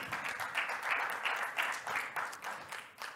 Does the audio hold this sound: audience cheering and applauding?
yes